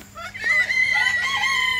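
Chickens in an outdoor run, close, clear calls and clucking from the hens, with a steady hum underneath.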